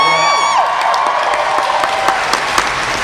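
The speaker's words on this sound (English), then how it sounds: "thank you for that applause" A convention crowd at the Emerald City Comicon 2012 George Takei panel applauds and cheers for him, a loud, sustained roar of clapping mixed with whoops and shouts from a large audience, with a brief raised voice at the start.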